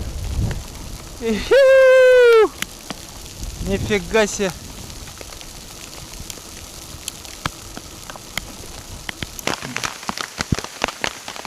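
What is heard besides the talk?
hail falling, then rain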